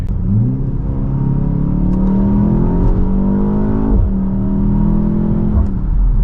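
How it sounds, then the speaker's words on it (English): A BMW X1 M35i accelerates hard with its turbo boost button held and the transmission downshifted to its lowest gear. The engine note climbs, loud and close, as one continuous rising roar with no voices. "So I pushed and held down the boost button, and you can see the countdown came on the screen. It downshifted to the lowest setting possible, and it accelerated."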